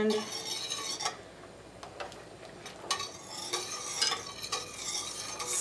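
A tablespoon of butter being stirred into a pan on the stove while it melts, with soft scraping and clicking of a utensil against the pan over a faint low sizzle, no speech.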